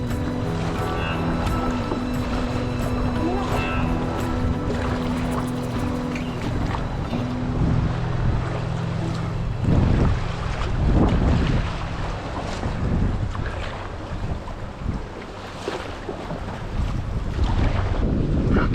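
A canoe is paddled across choppy lake water on a Temagami trip, with loud, steady wind buffeting the microphone over the rush and slap of waves and water. Bursts of splashing and paddle strokes come through in the second half.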